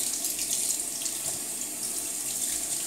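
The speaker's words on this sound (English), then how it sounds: "And get that water right through the bristles" Water from a tap runs steadily through the bristles of a brand new shaving brush at a sink, a soft continuous splashing hiss close by with no voices.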